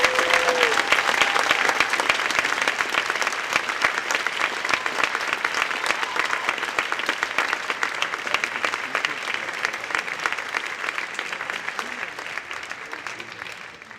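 Sustained applause from a graduation ceremony audience congratulating a high school graduate, a dense, steady patter of many clapping hands that continues evenly throughout and tapers slightly at the end.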